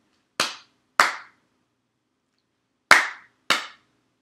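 Four sharp, close hand claps in two spaced pairs during a children's mouse clap song at a library toddler time, each crisp and ringing briefly, with silence between and no talking.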